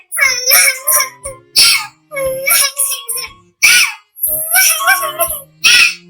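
A high, childlike voice sobs and wails in repeated short bursts, a cartoon bird's imitation of crying, close and loud.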